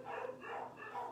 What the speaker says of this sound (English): Oh my goodness, those dogs.